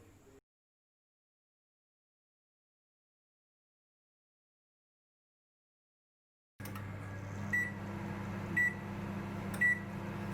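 An LG microwave oven preheating at 200 degrees Celsius for a thin-crust pizza, heard after a long silence as a steady low hum with a few short, evenly spaced beeps over it.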